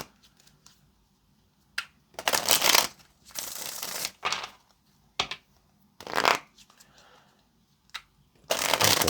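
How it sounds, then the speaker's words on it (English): A deck of tarot cards is shuffled close up in several quick riffling bursts, with short quiet gaps between them. "let's get one more shuffle for Aquarius"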